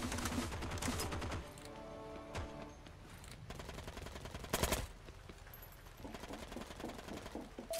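Bursts of automatic gunfire from the World War II video game Heroes & Generals, a submachine gun firing rapid rattling volleys near a bridge, with short pauses between bursts and some distant shots.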